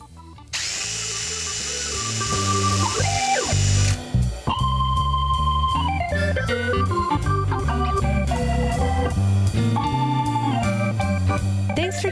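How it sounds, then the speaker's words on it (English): A DeWalt power drill runs loud and continuous, its pitch shifting as the speed rises and falls, with a brief pause near the middle and no speech. "take us out with one more drill"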